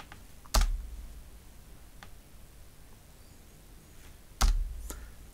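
Someone types a terminal command on a computer keyboard to restart the Plex Media Server service on a Raspberry Pi 3, giving two sharp, loud key strikes with a few faint taps between them in a quiet room.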